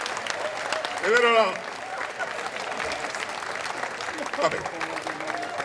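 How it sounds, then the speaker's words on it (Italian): Applause and crowd noise from an outdoor stand-up comedy show in a town square at Jesolo, with a spoken voice in Italian rising over the clapping briefly and a steady crowd murmur throughout. "Voglio un applauso per le signore venete."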